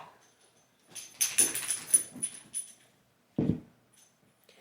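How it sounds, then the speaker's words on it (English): Dogs out in the Catskills give a short cluster of distant yelps and whimpering barks, then a single louder bark after a pause. "Do you hear these dogs?"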